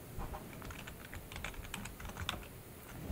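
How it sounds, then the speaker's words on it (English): Rapid, irregular clicks of typing on a computer keyboard, close and fairly quiet against a low background hum, with no speech. "So for that, type UI."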